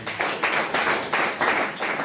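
A church congregation claps in unison for the Lord, a fast, even rhythm of loud, close hand claps in short repeated bursts, with no speech over it.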